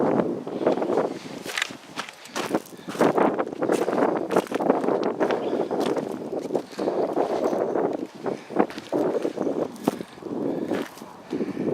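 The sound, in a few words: wind blowing at canyon overlook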